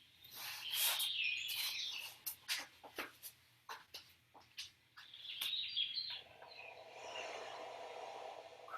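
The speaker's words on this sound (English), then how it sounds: "Crows are gone mad." Crows caw loudly in a quick run of sharp, repeated calls at close range, then fall away as a soft, steady wash of background sound takes over.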